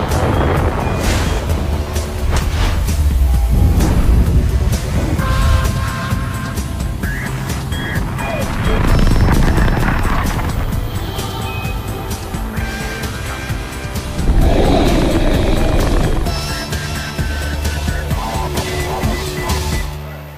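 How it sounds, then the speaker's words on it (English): A SpaceX Falcon 9 rocket lifting off with a Dragon CRS-16 resupply ship gives a loud, sustained broadband roar that rumbles and crackles throughout, rising in waves and never fading. "Liftoff of Falcon 9."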